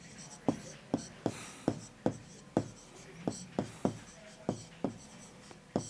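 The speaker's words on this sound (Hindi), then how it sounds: "तो हम लिखेंगे 15/35 की तुल्य भिन्न।" A pen writing a fraction during a Class 6 maths lesson, making a steady series of quick, crisp strokes and taps on paper, close and fairly quiet, with no talking over it.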